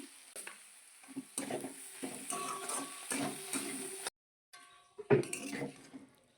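Leafy greens frying with eggplant in a pan, heard as soft sizzling broken by repeated stirring and scraping of a utensil against the pan, with a short silent gap and a louder clatter near the end.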